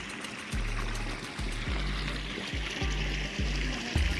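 Water from a motor-pumped pipeline gushes into a farm storage tank, a steady rushing flow under a regular low thumping pulse repeating roughly twice a second, close and moderately loud.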